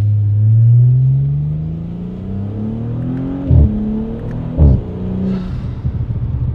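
An Audi B9 S4 with an ECS X-pipe exhaust revs loudly in cold weather, a deep engine drone rising in pitch, then two sharp pops or blips during downshift-style throttle stabs, ending in a rumbling burble.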